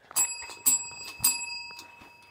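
A school bell rung by a preschool teacher in a classroom, three bright metallic strikes about half a second apart, each leaving a ringing tone that fades out at close range.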